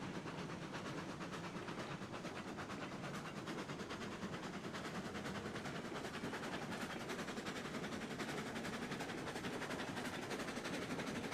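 A steam locomotive rolls steadily along rails in Railroads Online, giving a continuous low rumble with fine rhythmic clatter, even and fairly quiet throughout.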